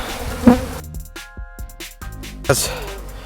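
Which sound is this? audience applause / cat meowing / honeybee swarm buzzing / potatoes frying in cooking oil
honeybee swarm buzzing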